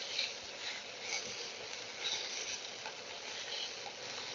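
Okra (bhindi) frying in a pan over a high flame gives a faint, steady sizzling hiss with light crackles throughout, no voices.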